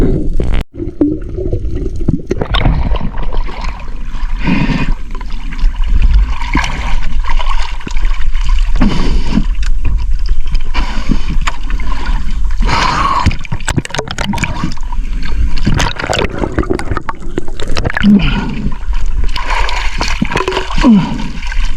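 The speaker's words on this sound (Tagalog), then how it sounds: "Kaya umakyat ako ng bangka at lumipat kami ng ibang bahura naman." A small boat's engine drones steadily while water splashes and gurgles against the hull, close and continuous.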